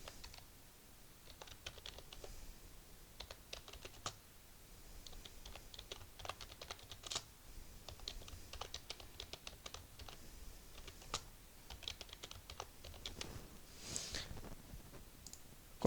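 Rapid, irregular clicking of a computer keyboard as text is typed into an MS Word table, close and steady with short pauses, running alone without any talk.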